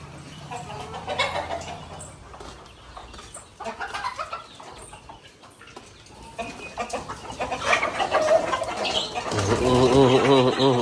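Chickens cluck and call at close range while being fed at a farmhouse, with bursts of fowl noise, scuffling and livestock sounds that grow busier and louder toward the end.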